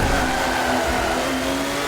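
A race car engine roaring at steady high revs with tire noise in Forza Motorsport 7, loud and continuous game audio without talk.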